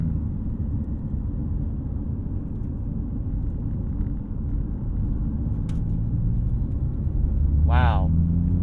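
A 2019 Chevrolet Malibu rounds a corner with a steady, muffled rumble of engine and road noise heard from inside the cabin. The rumble swells slightly near the end, where a brief voice cuts in.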